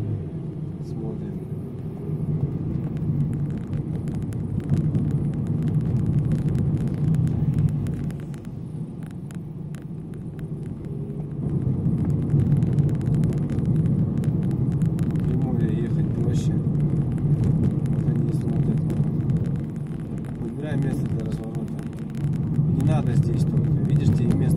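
A car engine revs and rumbles steadily as the driver accelerates during a driving lesson on city streets, with the low drone swelling and easing under an instructor's talk throughout.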